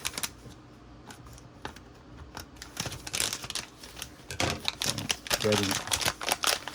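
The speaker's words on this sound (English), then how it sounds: "I'm just gonna cut a small piece here to keep the packaging" Scissors snip a small piece of packaging, heard as a run of close crisp cuts and crinkles that grows busier toward the end, with a voice speaking at the same time.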